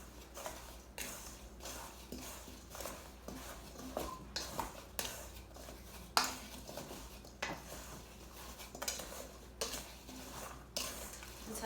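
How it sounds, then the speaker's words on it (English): Apples being tossed with cornstarch and cinnamon sugar for an apple cobbler, giving soft, repeated scraping and clinking of a utensil against a bowl in a steady rhythm, quiet and close, with no talking. "So now I'm gonna just mix this all together."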